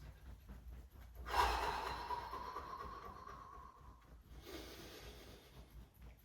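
Two deep, audible breaths during a Reiki breathing exercise, each a long, rushing exhale heard close up, the first louder and slowly fading before the second, softer one.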